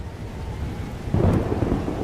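Thunder from a storm in the video game Life Is Strange: Double Exposure swells into a low rumble halfway through over a bed of steady rain.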